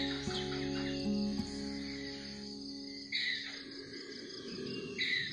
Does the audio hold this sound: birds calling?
yes